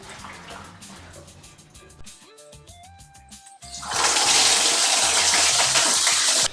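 Water pours into a Mercedes-Benz W124 300D fuel tank being tested for leaks, first with trickling and splashing, then a loud, steady, rushing gush filling the tank for the last few seconds.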